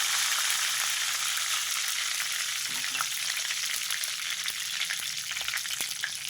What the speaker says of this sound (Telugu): కరివేపాకు వేగిపోయింది